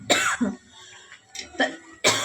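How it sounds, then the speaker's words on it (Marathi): A person coughs and clears their throat while chopping coriander, onion, green chillies and curry leaves in a home kitchen: a close, loud burst of coughs, a pause, then two more close coughing fits. "खोकला लागायला लागला आता."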